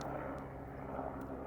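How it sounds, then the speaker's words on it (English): A large helicopter passes overhead, a steady broadband rotor and engine rumble filling the whole moment, loud and continuous with no voices. "we'll have to wait while large helicopter goes over"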